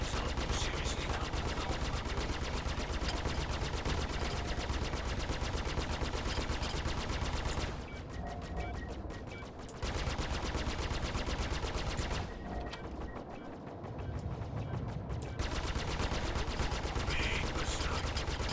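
Sustained automatic gunfire in the video game Star Citizen, rapid bursts firing almost continuously for long stretches, broken by two short pauses, loud and close with no voices.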